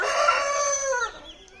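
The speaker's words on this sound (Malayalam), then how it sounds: "വീട്ടിലെ കോഴിയാണ്, പറഞ്ഞിട്ട് കാര്യമില്ല." A single rooster crows nearby, loud and clear, its call trailing off at the end.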